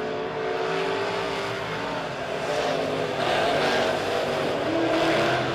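B-Modified race cars roar around Springfield Raceway during a heat race, a loud steady wall of engine noise from several cars that swells slightly as they pass, with no talking.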